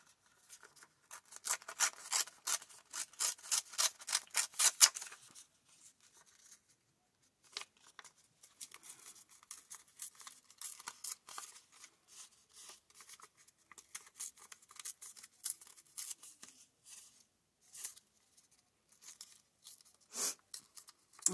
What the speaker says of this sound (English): Gotta rip some papers.